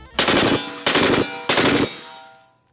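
A clone of the NCR service rifle fires semi-automatic, three loud, evenly spaced shots about two-thirds of a second apart, each with a ringing tail that fades out at the end.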